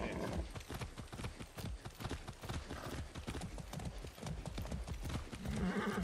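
Rapid hoof clip-clops from a horse in the video game Far Cry 6 on a hard surface, a steady galloping rhythm that runs throughout, with a faint voice briefly underneath.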